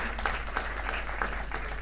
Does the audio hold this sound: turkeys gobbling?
no